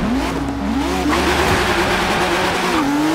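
Ford GT race car in Forza Horizon 3 at high revs, a loud continuous engine whine that rises and dips through gear changes, with some tyre noise.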